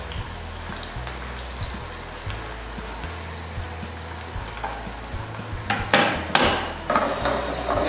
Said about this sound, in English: Go ahead and just drop that right into the oil.